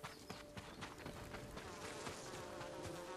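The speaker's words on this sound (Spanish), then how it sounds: "Hay un panal aquí de abejas" Bees drone steadily around a beehive in Ghost of Tsushima, a continuous faint buzzing hum layered with game ambience and light footstep-like clatter.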